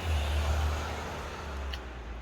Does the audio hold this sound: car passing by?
yes